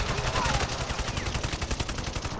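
Rapid automatic gunfire in the video game Call of Duty, a fast rattling burst of shots repeating evenly for the whole moment, loud and close.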